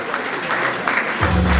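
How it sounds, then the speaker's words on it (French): An audience at an awards ceremony applauds an honoured actress, a steady wash of clapping from many hands, with a low hum joining near the end. "Est-ce qu'on peut bien l'applaudir, s'il vous plaît?"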